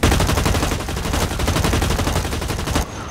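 Rapid, sustained gunfire from the online shooter Blacklight Retribution, dense automatic bursts filling nearly three seconds at loud, close level before cutting off abruptly.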